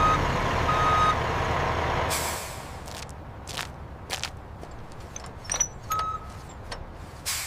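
A flour delivery truck at a bakery backs up, a loud engine rumble and beeping giving way to a sharp air-brake hiss, then scattered clunks and knocks that rise and fall nearby.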